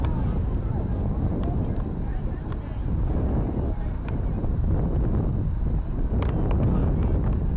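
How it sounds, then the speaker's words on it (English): Wind buffets the microphone high in the press box of Walsh Stadium at an evening girls' soccer match, a loud, constant low rumble with a thin steady tone and occasional distant crowd sounds. "Getting a little windy."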